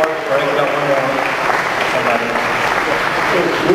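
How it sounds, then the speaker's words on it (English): Applause from a convention panel audience at a toy brand Q&A, a steady crowd clapping wash lasting several seconds with some voices mixed in. "let's give all these guys a great round of applause for all the hard work"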